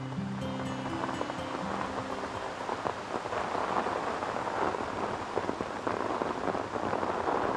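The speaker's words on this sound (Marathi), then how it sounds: "शुष्क महिन्यांनंतर पाऊस येतो" Steady rain falling after a long dry season, a dense continuous hiss of drops close by with no voices, even and unbroken throughout.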